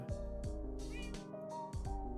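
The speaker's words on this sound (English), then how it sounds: "We need cats in here." Cats in a Minecraft-like survival game meow several times in quick succession, clear and close, with a few short overlapping calls.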